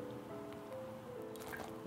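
Cooking oil, about five spoonfuls, is poured into a bowl of yeast, flour and lukewarm water, giving soft dripping and squishing liquid sounds that run steadily and close for a couple of seconds with no talking.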